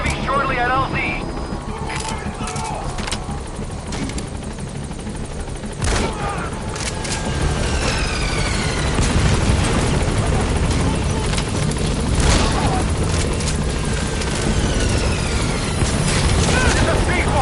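The Pequod helicopter arrives at a landing zone in Metal Gear Solid 5, its rotor thumping steadily and loudly throughout, with bursts of gunfire and booms mixed in.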